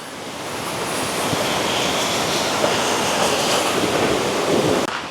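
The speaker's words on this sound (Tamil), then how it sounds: "தண்ணி வந்து போகிற வேகத்தை பாருங்க இவ்வளவு ஒரு பாஸ்டா வந்து போய்கொண்டிருக்கிறது" Fast-flowing floodwater after a landslide in the Kandy area makes a steady, loud roar and rush, with wind buffeting the microphone throughout and no talk.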